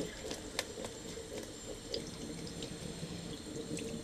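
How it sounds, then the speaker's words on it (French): Water from a kitchen tap runs over a scaled fish being rinsed and rubbed clean, a soft steady trickle with a few small splashes and drips, faint and close, no talking. "Voilà, vous rincez bien"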